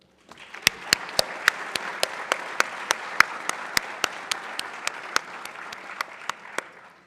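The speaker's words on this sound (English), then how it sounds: "Please give a round of applause to this year's nominee, Kaya Anderson." Audience applause for a school award nominee at Saint Johnsbury Academy: a steady wash of clapping from a crowd, with sharp individual claps standing out, lasting about seven seconds before fading out.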